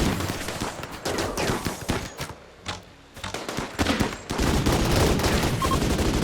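Gunfire in the video game RimWorld, rapid rattling volleys of shots that pause briefly and then resume as a dense sustained barrage, loud and with no voices.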